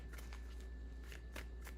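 Tarot cards being shuffled in quick, soft papery riffles, faint and close over a steady low hum.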